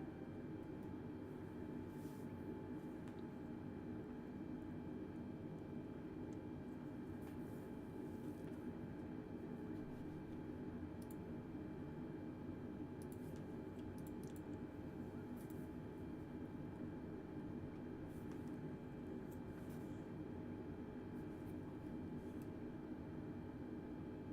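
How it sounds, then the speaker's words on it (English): An Airbus airliner in Microsoft Flight Simulator rolls down the runway for takeoff from Houston Bush, its engines giving a steady, loud, unbroken roar for the whole stretch. "Cleared for takeoff runway 18 left Airbus November 6192 Delta"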